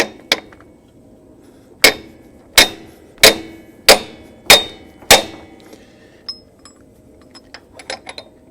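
Six sharp, evenly spaced metallic hammer strikes ring out close by on a GM OBS truck's HT6 AC compressor clutch, each with a short ringing decay, followed by quieter small clinks.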